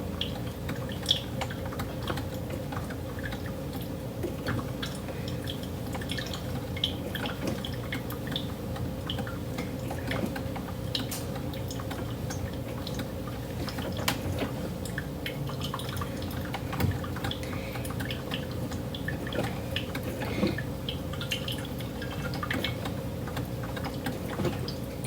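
A Hamilton Beach smart coffee maker brewing a single cup, giving a quiet, steady low hum with faint irregular drips and ticks throughout, no voices.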